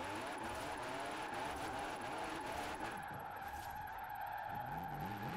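Drift car in Forza Horizon 4 with a 3.8 engine, a steady strained engine drone blended with continuous tire skidding, loud and unbroken throughout, with no talking.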